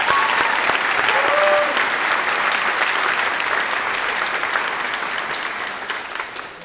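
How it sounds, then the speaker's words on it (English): A scholarship awards program audience applauds in a dense, steady round of clapping that holds throughout and fades slightly toward the end. "let us give you a round of applause"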